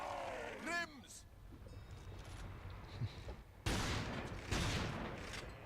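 Shotgun blasts in the video game Resistance 3, two heavy broadband bursts a second or so apart amid game ambience, after an earlier sharp sound at the start.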